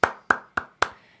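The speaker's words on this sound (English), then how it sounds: "And for this one, we clap." Four crisp hand claps, evenly spaced and close, each sharp with a short decay, alone without talk.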